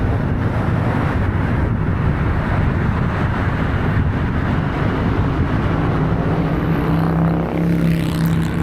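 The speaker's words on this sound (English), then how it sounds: "That wasn't my motor, that was the motorcycle" A two-cylinder motorcycle engine rumbles past on Las Vegas Boulevard near the Luxor, a steady loud low drone mixed with traffic and wind noise, no talking.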